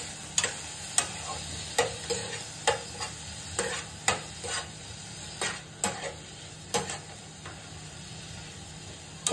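Paneer and broccoli with salt frying on a high flame, a steady close sizzle broken by regular scraping ticks of a spatula stirring the pan, roughly one every half second.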